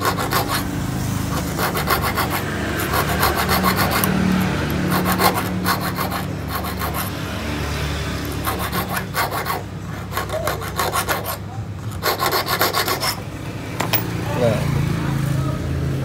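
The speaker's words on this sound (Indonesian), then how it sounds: "Kita tandai pakai kikir dulu deh." A metal file rasps back and forth over a key blank in bursts of steady rhythmic strokes, close and clear, with brief pauses and low speech underneath.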